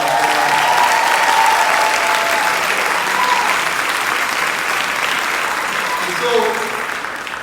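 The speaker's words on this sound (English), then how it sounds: "Give our parents a round of applause." A crowd at a beautillion gala applauds the parents of the young men, loud sustained clapping filling the room, with voices and a brief spoken phrase over the applause as it slowly tapers.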